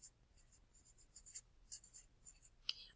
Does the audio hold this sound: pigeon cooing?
no